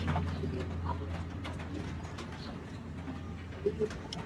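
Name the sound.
pigeons cooing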